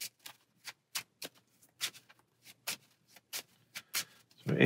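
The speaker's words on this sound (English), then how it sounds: "And shuffle." A deck from the God of War card game being shuffled by hand, a series of crisp separate riffling snaps at irregular intervals, close and clear with no talk.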